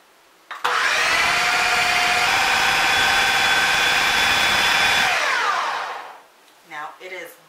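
A blender mixes buffalo chicken dip with a loud, steady motor whine for about four and a half seconds, then winds down, followed by brief talking.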